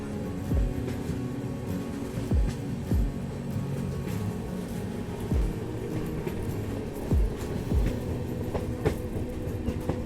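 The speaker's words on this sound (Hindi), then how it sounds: "बाकी कुछ दूर तक अपनी ट्रेन इन्हीं जंगलों के बीच चलने वाली है" Kathgodam Shatabdi Express rolling slowly through forest, with rhythmic clickety-clack of wheels over rail joints recurring every second or two over a steady low rumble, heard from inside the train.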